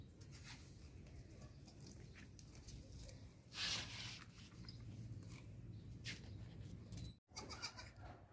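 Goats at a livestock sale, one bleating near the middle over a steady low background murmur, with faint voices.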